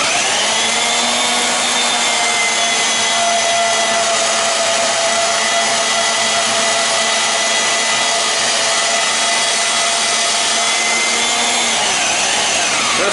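Milwaukee bandsaw on an off-road stand cutting 1/8 inch angle iron with a new blade; loud, continuous, close metallic whine and grind lasting the whole time with no pauses, no talk.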